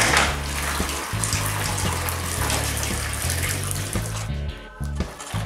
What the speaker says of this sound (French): je vais faire tremper les languettes dans l'eau chaude pour 15 minutes pour ramollir le bois